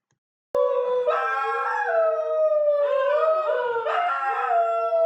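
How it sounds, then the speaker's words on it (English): A wild dingo gives one long, loud, close howl that begins abruptly after brief silence, its pitch sliding and wavering while layered harmonic tones swell and fall, sustained alone for several seconds with no talk. "Dingoes sleep a lot and are mostly pretty quiet. However, they howl, chortle, snuff bark"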